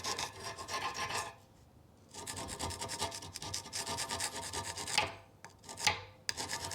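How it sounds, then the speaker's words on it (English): An old file scraping surface rust off a brake carrier on a 2004 Mini One 1.6 petrol, harsh rhythmic rasping strokes in long close runs with a brief pause, no voices. "I found a good tool for taking off any surface rust is an old file."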